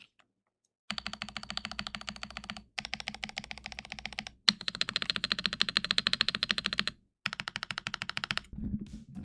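Fast, clacky mechanical keyboard typing in steady bursts with short pauses between, close and crisp, no voices.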